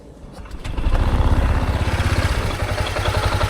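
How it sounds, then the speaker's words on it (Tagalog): A Honda Giorno scooter fitted with a 160cc block engine cranks and catches, settling into a loud, steady, rapidly pulsing running note close by. "Ito yung tunog ng makina niya pag i-start natin."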